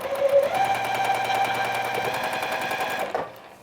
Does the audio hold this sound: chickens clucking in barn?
no